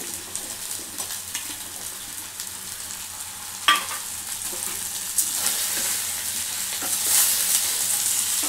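Okra and onion frying in oil in a Telangana-style home kitchen, a steady close sizzle with occasional louder crackles and a brief sharp pop partway through, no voices.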